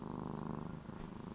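A house cat purring close up, a steady low rumbling vibration that continues evenly without pause, with no voices.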